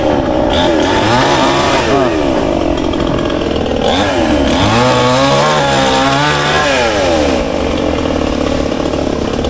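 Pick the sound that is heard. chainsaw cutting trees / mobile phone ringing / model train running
chainsaw cutting trees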